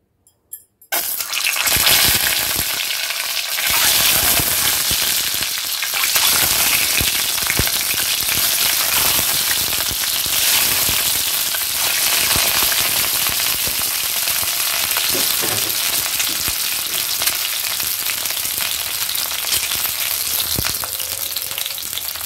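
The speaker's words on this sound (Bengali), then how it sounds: "এই তেলে আমি ডিমগুলো ভেজে নেব।" Eggs frying in hot oil give a loud, steady crackling sizzle that starts abruptly after a brief quiet moment and holds strong and close for the whole stretch, with no talking.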